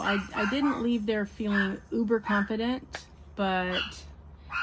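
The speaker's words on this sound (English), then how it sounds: "sorry about the barking" A dog barks and yips insistently indoors at home, a string of sharp, close barks and whiny yelps mixed with someone talking over them.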